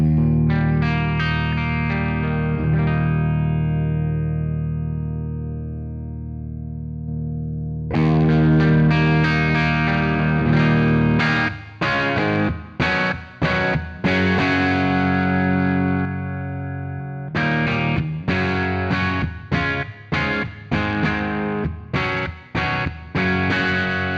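Electric guitar played through a BRBS Vintage Class 3+ amplifier set to modern mode, with distorted sustained chords ringing out, then choppy rhythmic strummed chords with short palm-muted stops, loud and close with no talking.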